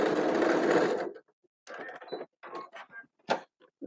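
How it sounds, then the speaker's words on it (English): A sewing machine stitching a pair of pants, a steady whirring run for about a second, then short stop-start bursts with clicks and creaks, close and moderately loud. "Now we sew the pants."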